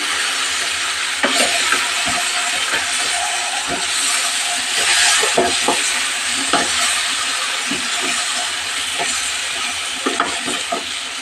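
Eggplant curry (gutti vankaya) is stirred in a hot pan, a steady sizzling hiss broken by repeated scraping clatters of the spoon against the pan, close and fairly loud.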